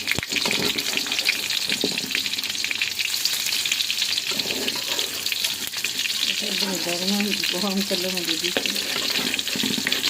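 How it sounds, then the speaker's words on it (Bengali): Kebabs frying in oil in a home kitchen, a dense continuous crackling sizzle throughout, with occasional clatter and faint background voices. "লাল লাল করে ভেজে নিব কাবাবগুলো"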